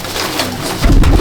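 Old line Madrasi pigeons in a home loft coo in a low, throaty burst that swells louder toward the end, close and fairly loud against a steady background hum.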